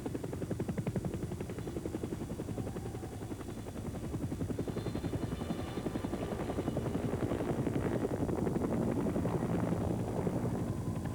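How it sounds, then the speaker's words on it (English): A helicopter flies toward Axel Heiberg Island in the high Arctic, its rotor chopping in a fast, steady throb under a constant engine drone that grows slightly louder toward the end. "our helicopter will transport us to the site of the fossil forest"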